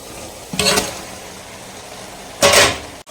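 Marinated chicken is stirred into frying biryani masala for a basmati rice chicken biryani, making two short bursts of sizzling, scraping noise separated by a quiet pause, close and with no talking.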